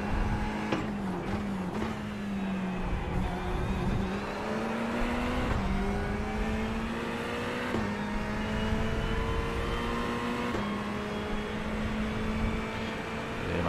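Ferrari GT3 race car in iRacing at Road Atlanta, its engine droning steadily and loud throughout, pitch climbing through gears with brief dips at shifts, no talk.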